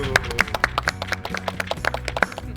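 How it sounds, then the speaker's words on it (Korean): A small group claps after a quiz game, with quick, uneven hand claps rattling over steady background music for a few seconds. "박수."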